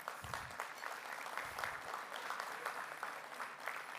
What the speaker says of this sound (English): So a round of applause to their team again.